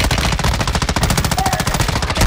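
Rapid automatic gunfire from a Call of Duty match rattles in a fast, even burst of loud, close shots lasting a couple of seconds, with no talking.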